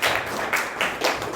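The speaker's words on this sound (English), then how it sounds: "Please clap hands for me." A classroom of students clapping hands during a maths lesson, a brief burst of rhythmic group claps in a few quick pulses, close and moderately loud.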